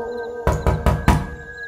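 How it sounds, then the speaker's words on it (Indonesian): Someone pounds on a bedroom door with four firm knocks in a steady rhythm, each strike loud and close, with the final blow the strongest, over a low, steady room hum. "ketukan itu lama-kelamaan semakin keras."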